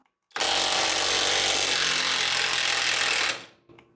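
A $170 Uaoaii IW800 cordless brushless impact gun hammers loose a 24 mm nut in one loud, close burst of rapid rattling impacts lasting about three seconds, then cuts off abruptly as the speed brake catches it.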